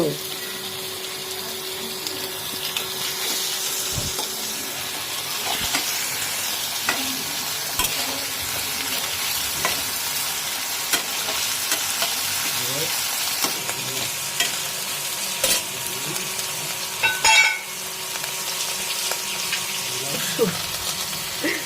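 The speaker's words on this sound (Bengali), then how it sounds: "এখন আমি কড়াইয়ের মধ্যে শুটকি মাছগুলো দিয়ে দেবো" Dried fish sizzles and crackles steadily in a hot wok, with occasional scraping and stirring sounds and a brief clatter near the end.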